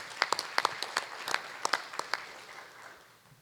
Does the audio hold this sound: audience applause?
yes